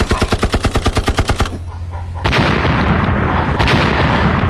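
Heavy artillery fire sound effect: a rapid train of loud, evenly spaced blasts, then a short gap and a rolling, sustained barrage of booms and rumbling close by, with no voices.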